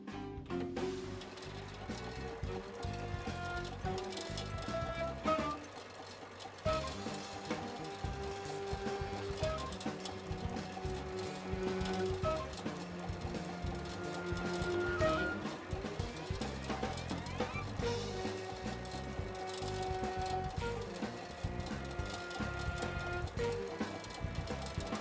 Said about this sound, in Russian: нитка наматывается на нее на манер клубка. Это происходит автоматически и выглядит примерно так.